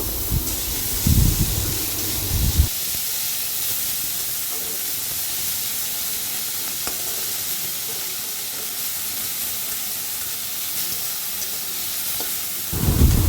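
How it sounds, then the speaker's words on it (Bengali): Finely chopped onion lightly frying in a wok (kadai) gives a steady, close sizzling hiss that runs unbroken for about ten seconds, with louder clattering bursts at the start and end. No one speaks. "এরপর আমি কড়াইতে দিয়ে দিব একদম কুচি করে কেটে রাখা পেঁয়াজটা আমি হালকা করে ভেজে নেব।"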